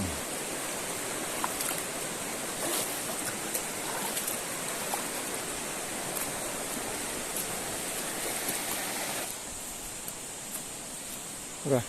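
A river flowing through natural jungle in Aceh, a steady broadband rush of water heard close and continuous, easing slightly near the end with a brief louder bump.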